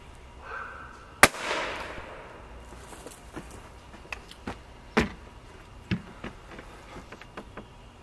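A dieseling pellet rifle fires one sharp, loud shot that rings briefly. Softer clicks and taps follow scattered across the rest of the quiet space.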